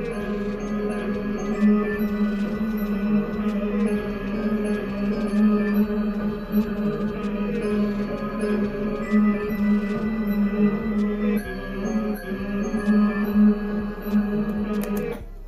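A bell melody over a wood block underlay, part of a Memphis-style hip-hop beat, plays continuously and fairly loud for the whole stretch, with no talking.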